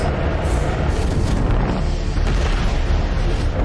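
Torpedo blasts rumble from a space battle in The Expanse, a sustained loud booming roar with deep low-end impacts and crackling debris, heavy and continuous without any voices.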